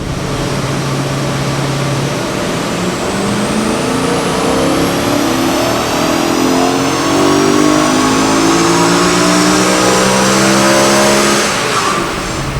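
A BMW E92 M3 with 152,000 miles revving hard on a dyno, its engine note climbing steadily through the gears, loud and continuous at close range with no talking.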